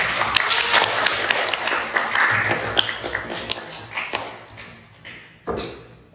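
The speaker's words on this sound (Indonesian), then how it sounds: "Kita beri aplaus Hajrian." A classroom of physics students claps together in a burst of close, uneven applause that thins into scattered claps before a final few.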